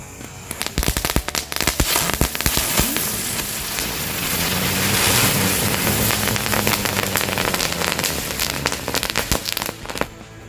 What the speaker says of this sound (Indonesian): Ini menyalakan mercon bunga teratai.